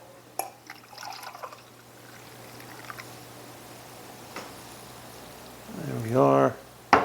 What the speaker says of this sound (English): we're going to go ahead and put some hot water in here